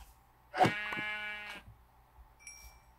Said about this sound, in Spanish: Lo siento, oveja, pero necesito tu lana.